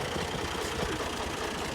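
A tractor engine idling close by, a steady loud rumbling chug with a regular low pulse and no talk over it.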